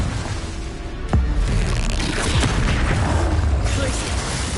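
A Confringo fire spell blasts off in the Hogwarts Legacy video game duel, a sharp boom near the one-second mark ringing over dense, continuous battle noise and rumbling effects.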